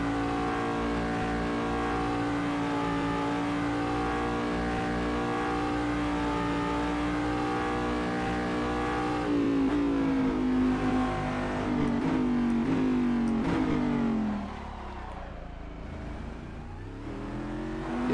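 A Cadillac DPi prototype race car engine in the Assetto Corsa racing game drones loud and steady at high revs, its pitch climbing through a gear change before the revs drop away near the end, with no talking.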